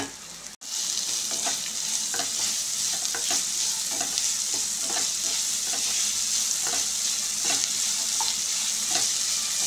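Small chopped carrot pieces frying in a pan for carrot methi pulav, a dense, even sizzle with a rhythmic series of spatula stirs scraping through it, close and steady, no talking.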